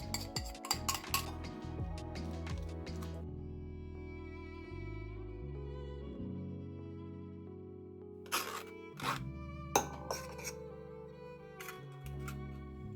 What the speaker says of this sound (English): it's looking a little lumpy now, so we're going to pass it through a sieve